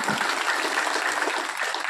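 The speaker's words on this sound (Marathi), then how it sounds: "त्यांच्यापेक्षा वाजवणारे सुंदर आहेत त्यांच्यासाठी एकदा टाळ्या वाजवा" An audience at a Hanuman Chalisa recitation ceremony in Jalke Bu claps for the musicians, a full, continuous wash of many hands at a steady level with no break.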